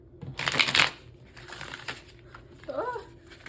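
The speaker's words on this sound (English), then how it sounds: "So let's do a little shuffle." Quiet riffling and flapping of tarot cards being shuffled in short bursts, with a brief faint chirp near the end.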